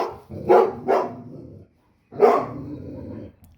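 Dogs bark close and loud in sharp bursts, two quick barks followed by a third after a short pause, with a low growly edge.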